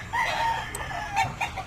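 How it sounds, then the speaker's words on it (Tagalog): Chickens and roosters on a poultry farm in Montalban, Rizal, excited at first feeding, cluck and crow in a lively overlapping chorus, fairly close and alone with no talk. "Napakagandang tingnan ng mga nakalatag na manok dito sa amin."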